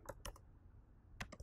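An address is typed on a computer keyboard into a search box: two short bursts of close, crisp key clicks separated by a pause, with no talking.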